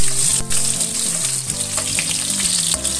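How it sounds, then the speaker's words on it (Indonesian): Shallots frying in hot oil for a stir-fry of carrot and papaya, a loud close sizzle with scraping and stirring of a utensil in the pan, and a few sharp clatters along the way; nobody speaks. "Sini setelah minyaknya itu panas, masukkan bawang merahnya."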